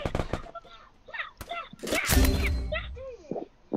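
Gunfire in the battle royale video game Free Fire: a loud burst of shots erupts midway, surrounded by players talking over one another.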